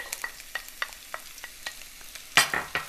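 Onions stirred and frying in a pan for a simple Tanzanian dish: quiet sizzling broken by repeated scraping stirs at an irregular rhythm, with one louder clatter near the end, and no talking.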